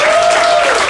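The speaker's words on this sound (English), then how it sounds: "Let's give them a round of applause" An audience at a spoken-word poetry event applauds, steady clapping filling the whole moment at close range, with a faint tonal whistle-like line running through it.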